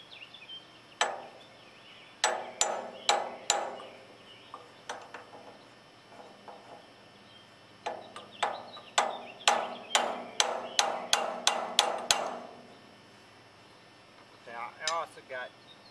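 Hammer blows on a 1964 Sears Suburban 600 garden tractor to free a stuck part, sharp metallic strikes in quick bursts of several hits each, close and loud, with short pauses between.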